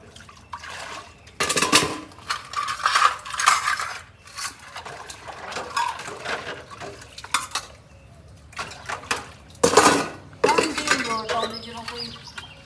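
Household dishes, pots and utensils being washed by hand in a Punjab home; intermittent clattering clinks and splashy scrubbing bursts come close and moderately loud, spaced with quieter pauses.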